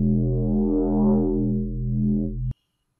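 A minimal tech drum and bass synth bass made with Ableton Operator, a smooth, hollow, harmonically rich sustained tone that swells slightly, then cuts off abruptly with a click into silence.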